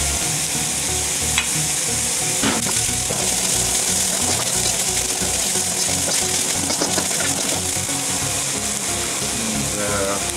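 Garlic, ginger and chilis fry in a wok with a dense, loud, continuous sizzle, broken by a few metallic scrapes and clinks from the stirring.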